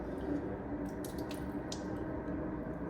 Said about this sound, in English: So all that section should be washed with water 3 times.